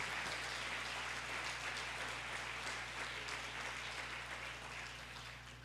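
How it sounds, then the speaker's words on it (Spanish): Congregation applause at a Spanish-language family church service, a faint, distant wash of clapping over a steady low hum, slowly fading toward the end. "O dale un aplauso a Dios"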